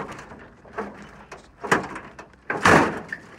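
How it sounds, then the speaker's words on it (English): A door on a 1951 Dodge Power Wagon truck opens with a few close mechanical clicks and creaks, ending in a louder latch-and-swing burst near the end. "Door opens."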